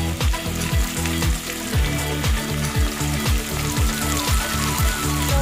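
Green chilies and tomato frying in oil in a pan, a constant loud sizzle overlaid with repeated rhythmic scraping strokes of stirring, no voices.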